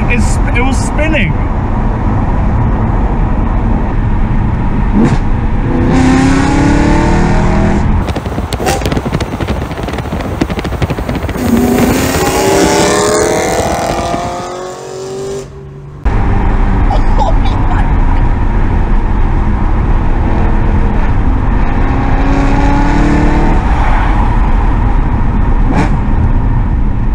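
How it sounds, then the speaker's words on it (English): A BMW M3 engine roars continuously, revving and droning over wet-road noise in the rain for nearly half a minute, with a brief muffled dip midway before resuming loudly. "We know what the car sounds like."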